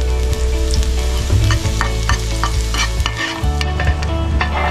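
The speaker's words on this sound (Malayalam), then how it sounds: "വെളുത്തുള്ളി ഇങ്ങനെ ഒന്ന് ഫ്രൈ ചെയ്തിട്ട് അതിനകത്തേക്ക് ചേർത്ത്" Garlic frying in a pan for chicken momos, a close sizzle with repeated scraping and stirring strokes of a utensil against the pan, fairly loud and without speech.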